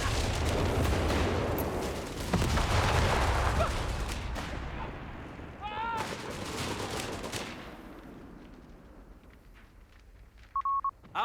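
Artillery fire in Company of Heroes 3 during a 1v1 match, heavy booming blasts and rumbling impacts packed densely through the first half, thinning out later, with brief electronic beeps near the end.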